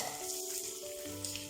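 Short burst of steady sizzling as a snack is slipped into hot sunflower oil. The crackle is close and continuous, with soft tonal music underneath.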